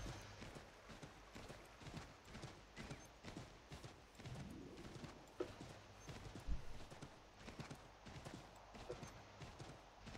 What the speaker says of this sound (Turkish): Witcher'da da atı çağırıyorum Roj'u.